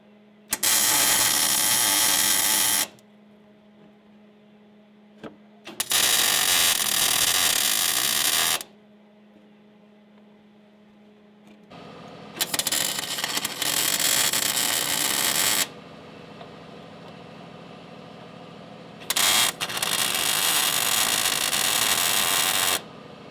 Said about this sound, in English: Now I can't even see where I need to weld there, so it's going to be tricky.